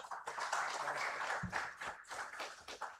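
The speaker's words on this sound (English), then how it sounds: "Let's have a big round of applause for our dignitaries on the dais." Sustained audience applause for dignitaries at a university orientation ceremony, a dense even wash of many hands clapping that carries steadily through the whole stretch without pause, with no voice heard over it.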